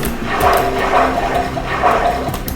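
Flowing water in the Minecraft survival game, a steady rushing and gurgling stream with gentle surges, fairly loud and heard alone without talk.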